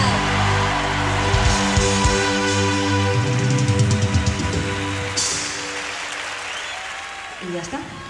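Concert crowd applauding the drummer during a 1989 show in Seville, dense clapping and cheering that holds steady, then slowly thins toward the end as a band member's voice carries over it.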